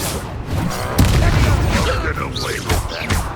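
A Confringo fire spell explosion in Hogwarts Legacy bursts with a sharp boom, followed by rumbling blasts and magical effects, loud and close, while voices talk over the combat.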